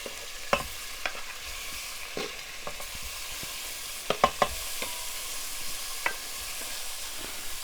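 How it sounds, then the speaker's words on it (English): Beef cubes sautéing in the stainless steel inner pot of a 4-quart Instant Pot Rio, a steady broad sizzle with sharp scraping clacks of a wooden pusher stirring the meat, several clustered knocks around the middle, no talking. "Now let's test out this anti-spin function for sauteing."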